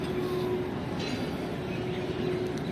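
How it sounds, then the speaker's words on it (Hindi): The Karakoram Express pulls out of a station toward Lahore, heard from a pedestrian bridge above as a steady low rumble of rolling coaches with a faint high wheel squeal, continuous and fairly close. "मेरा लोगों से पहुंचने से पहले ही ट्रेन यहाँ से निकल रही है"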